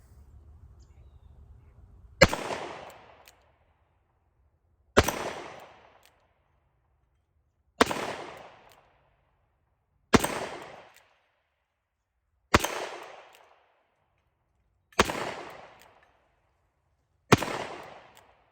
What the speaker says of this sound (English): This is one of my favorite guns to shoot.